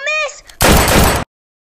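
Gunshots in the Gorilla Tag VR game: after a short tonal blip, a loud, harsh burst of gunfire lasts about half a second and then cuts to silence.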